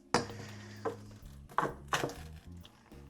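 A rolling pin smashing food on a board gives four or five separate dull thuds with short crunches between them. The impacts are close and loud, with no voices.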